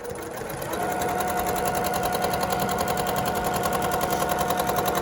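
A freshly oiled sewing machine starts up and runs at a fast, even clatter, its rapid needle stitching a quarter-inch quilt seam steadily close by.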